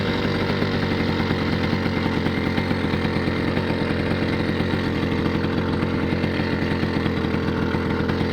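A small motorized bicycle engine idles nearby with a continuous buzzy, rapid-firing putter, steady in level and without talk.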